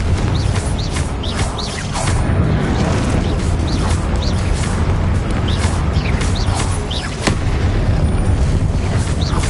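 Confringo blasting spells erupt in a Harry Potter video game as a continuous barrage of loud booming explosions. Sharp pops and cracks are layered over a dense, roaring low rumble throughout, close and intense with no pause.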